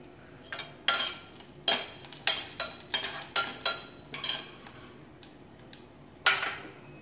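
Cumin seeds sautéing in a little hot oil in a pan, stirred with a utensil that clinks and scrapes against the metal in a run of sharp, fairly close knocks with short gaps, then one last clink after a pause.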